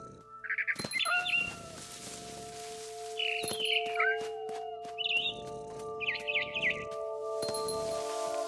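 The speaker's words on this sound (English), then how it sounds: "It was a barn swallow going back to her nest." A barn swallow chirps in the video game What Remains of Edith Finch, several short bright twittering bursts scattered across a sustained tonal music bed, fairly close and clear.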